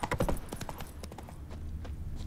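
Roach the horse trots in a fantasy role-playing game, hooves striking in a quick, crisp clip-clop rhythm that is loudest at first and then continues more softly.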